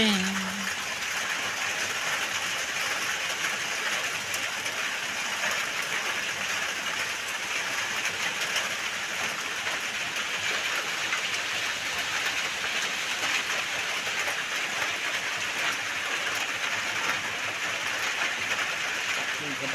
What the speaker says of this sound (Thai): ฝนกำลังตกหนักมากเลยครับ